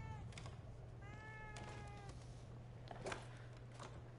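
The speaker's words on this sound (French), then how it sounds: "En fait, il miaule quand il sait que je peux regarder quelque chose." A domestic cat meows several times indoors, short rising-and-falling cries with a longer drawn-out meow in the middle, fairly faint over a steady low hum and game sounds.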